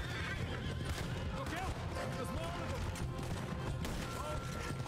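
Horse whinnies in Red Dead Redemption 2 gameplay, several squealing neighs over a continuous loud bed of game sound, with people talking throughout.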